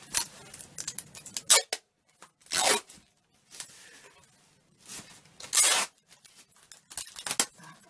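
Duct tape is ripped off the roll in several sharp, crackling tears spaced a second or two apart, close by, with quieter rustling and pressing between pulls and no talking.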